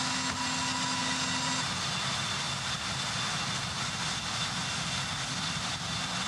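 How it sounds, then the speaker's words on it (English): Scaled Composites' White Knight Two carrier aircraft, with Pratt & Whitney engines, taking off from a runway, heard as a steady, broadband engine roar with a low hum, sustained and fairly loud throughout. "a runway takeoff for both vehicles."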